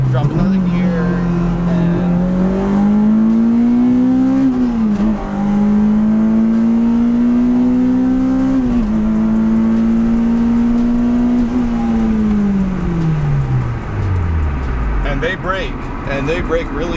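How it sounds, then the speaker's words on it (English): Honda Civic EP3 Type R fitted with Brembo brakes, engine note dropping through gears then rising and falling under load, loud and close throughout, ending with a steady deceleration as revs fall away. "We're gonna drop a gear, drop another gear,"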